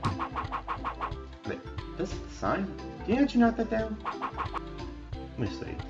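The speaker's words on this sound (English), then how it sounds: "I heard the rooster crowing, so I know he's happy." Rooster crowing on a farm in the 102 Dalmatians video game comes through several times against steady game music. A person talks over much of it.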